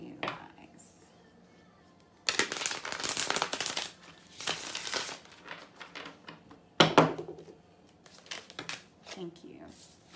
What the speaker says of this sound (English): We're going to stick with this Hush Tarot for you guys. Let me shuffle it real quick.